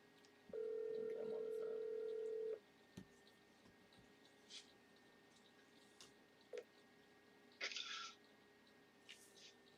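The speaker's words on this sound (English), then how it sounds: "let's get Doc on the phone here" A steady telephone dial tone plays for about two seconds, followed by quiet clicks and brief tones of a number being dialed for a call to a live chat show, faint and without talk.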